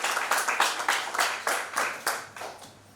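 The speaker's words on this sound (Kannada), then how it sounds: "ಸೊ ಒಂದ್ಸಲ ಜೋರ ಚಪ್ಪಾಳೆ ಬರೆಸ್ತಾ ಇದ್ರೆ ನಮ್ಮ ಗಣೇಶ್ ಭಟ್ ಸರ್ಗೆ" Audience applause for Ganesh Bhat at a launch event: a crowd claps in loud, regular bursts about every third of a second, close and without talk, tapering slightly at the end.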